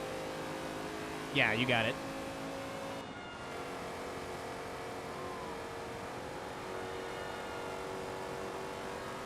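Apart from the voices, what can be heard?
race car engine in Forza Motorsport 2 video game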